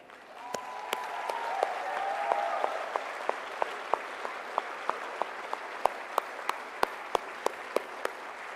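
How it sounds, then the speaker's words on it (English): Commencement audience at Clark University's 118th ceremony applauds faculty and staff, a steady wash of clapping from a large crowd with a few sharp, distinct claps standing out near the front. "show the support and appreciation with applause for the education that you receive from the faculty and the staff"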